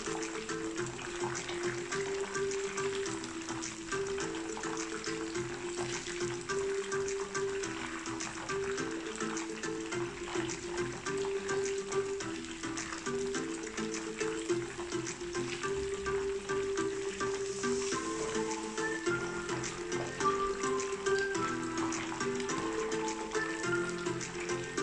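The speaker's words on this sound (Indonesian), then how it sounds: "Jika ikan sudah cukup garing, bolehlah diterbalikkan supaya kedua-dua permukaan ikan masak dengan sekata." Fish frying in hot oil gives a steady, moderately quiet sizzle throughout, with a faint recurring tonal hum underneath and no talking.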